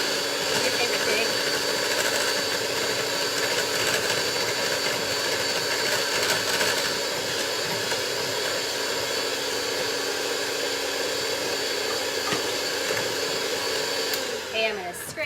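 A mixer or blender whirs loudly and steadily, close by, while mixing German pancake batter, its motor holding one even pitch for about fifteen seconds before winding down at the end.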